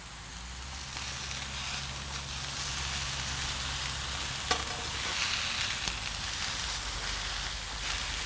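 Sausage, peppers and onions cook down in a pan for a cookout, a dense continuous close sizzle with a couple of faint clinks, no voices over it.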